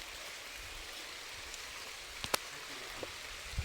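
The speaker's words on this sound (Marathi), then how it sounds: "कारण आता पाऊस खूप वाढायला लागलाय" Heavy monsoon rain pours down in the Konkan countryside, a steady dense hiss with a few sharper drop hits near the end, heard alone.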